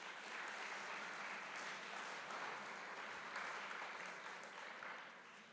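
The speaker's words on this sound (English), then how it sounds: "we'll give these guys a round of applause" Students at an academic awards ceremony receive a round of applause, a steady, distant-sounding patter of clapping from the audience that holds evenly for several seconds and fades slightly at the close.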